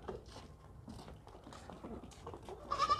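A tall, high-yielding dairy goat and her kids bleat in a series of short, fairly faint calls, close by, with no voices.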